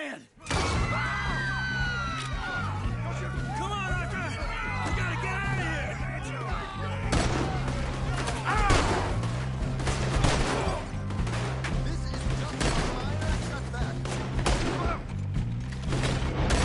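Gunfire rattles through a shootout in Red Dead Redemption 2, with a dense run of shots and impacts, some rapid bursts, under shouting voices and a pulsing game score.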